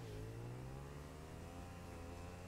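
Motorbike engine in a video game revving steadily, a rising harmonic whine held at a loud, close level for the whole stretch with no talk over it.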